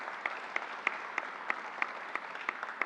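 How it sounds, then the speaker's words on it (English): Audience applause at a college announcement event, heard as a steady sustained clatter of many hands clapping with distinct sharp individual claps standing out at a regular pulse, no voices over it. "Let's give him a round of applause"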